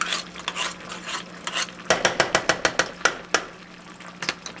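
Tomato paste for spaghetti sauce stirred around a pot, soft scraping at first, then a quick run of sharp, evenly spaced utensil clicks against the pan, followed by a few scattered knocks.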